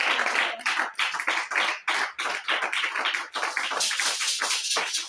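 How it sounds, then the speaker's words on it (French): A church congregation claps for the Lord in steady, rhythmic unison during an apostolic worship service, loud and close, with no talking over it. "Applaudissons pour le Seigneur."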